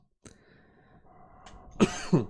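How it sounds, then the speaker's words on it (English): Two sharp coughs close by near the end, after a quieter stretch with a brief throat-clearing sound earlier. "I hope that doesn't come up too bad, my coughing there"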